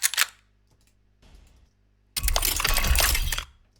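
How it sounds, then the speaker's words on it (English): Steampunk-style lever and gear sound effects from a sound design piece: a sharp mechanical click, a faint rattle, then a loud dense grinding clatter of metal for about a second before stopping. "More levers and gears."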